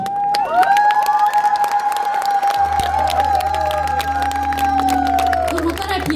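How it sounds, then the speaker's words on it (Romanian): A concert audience in Covasna applauds and cheers in a dense wash of claps and shouts, while sustained musical tones hold over the crowd noise. "hai să facem un rând de aplauze pentru voi."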